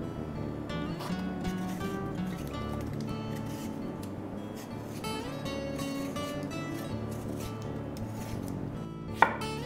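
Knife blade slitting peeled pointed gourds, soft repeated cuts and taps against a board over a steady background hum, with a sharper knock near the end.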